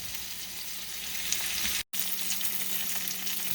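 Pork steaks fry in a pan on medium heat, giving a dense, even sizzle and crackle heard up close, cut by a brief moment of silence.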